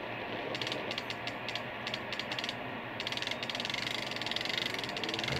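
A fishing reel winds steadily as a crankbait is retrieved in a VR fishing game on Oculus Go, giving a continuous close ratcheting click that grows slightly louder toward the end.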